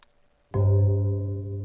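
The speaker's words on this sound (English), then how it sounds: "That's the sound of the time changing." In the game I'm on Observation Duty 4, a brief high blip, then a sudden rich tonal chime marking the time change swells in and sustains, holding loud and steady with a low hum beneath.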